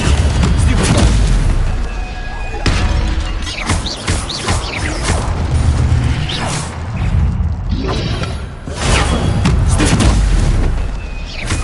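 Incendio fire spells cast in the game Hogwarts Legacy, heard as repeated loud whooshing bursts and booming impacts with rumbling low crashes and short swishes spread across the stretch.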